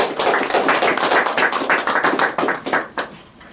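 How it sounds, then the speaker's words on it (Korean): A congregation at a Korean Christian seminar worship service gives the pastor a steady round of hand clapping after the sermon. The applause is loud and busy, then fades out near the end. "우리 귀한 말씀을 선포해 주신 우리 신동준 목사님께 우리 박수 한번 보내드리겠습니다"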